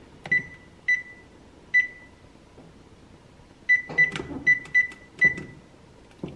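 A series of short, sharp electronic beeps from an oven timer keypad, a few spaced taps then a quicker run of beeps, close and clear with soft clatter.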